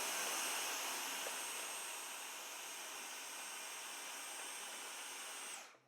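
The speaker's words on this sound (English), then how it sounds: "At the same time, I'm using my vacuum to get rid of any dust or fibers that came loose." A vacuum cleaner set on low suction runs steadily with a smooth, even whir while dust and fibers are cleaned from a Passap knitting machine. It cuts off just before the end.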